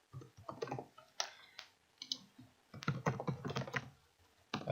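Quick irregular bursts of typing on a computer keyboard, close and clear, with short pauses between runs of keystrokes while entering project details into Revit software.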